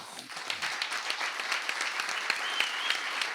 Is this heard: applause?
yes